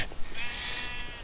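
A sheep bleats in Minecraft, one short faint wavering baa heard alone in a plains setting.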